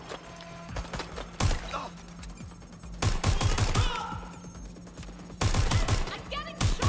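Gunfire aimed at the player in Watch Dogs Legion comes as repeated bursts of rapid shots, loud and close, broken by short pauses, with a few faint voices in between.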